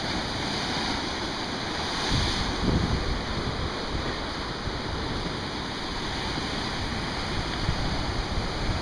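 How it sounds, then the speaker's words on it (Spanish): Strong sea waves crash and roar continuously, loud and near, with wind buffeting the microphone and a heavier surge partway through; no one speaks. "por eso el mar tiene tanta fuerza aquí"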